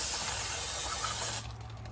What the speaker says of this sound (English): just gonna spray some brake cleaner on the pistons